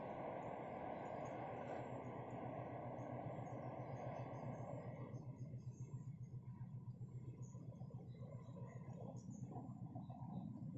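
The Wijaya Kusuma K116 passenger train, running from Cilacap to Ketapang Banyuwangi, passes close by between Jenar and Kutoarjo stations with a steady loud rumble and rhythmic wheel clatter that eases off in its second half.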